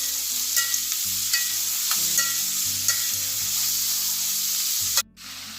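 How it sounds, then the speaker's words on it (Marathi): Chopped onion and green chilli sautéing in hot oil while being stirred for a kolambi (prawn) dish, a steady close sizzle with light scraping stir strokes and a brief clunk near the end. "कांदा घालून घेऊया आणि थोडी एक हिरवी मिरची टाकायची चवीसाठी आणि कांदा परतून घ्यायचा मऊ होईपर्यंत"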